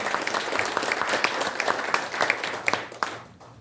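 Warm applause from a ceremony audience rolls on as a dense, even patter of many clapping hands, a few sharper individual claps standing out, before tapering off near the end.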